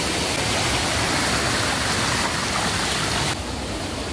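Waterfall at Curug Cikawah in Bogor, a dense, loud, continuous roar of falling water that fills the scene without any voices.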